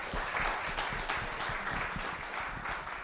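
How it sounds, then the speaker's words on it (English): An audience on a talk show claps for the Phillies, a steady wash of many hands, quiet and continuous throughout. "let's give another round of applause for the Phillies real quick."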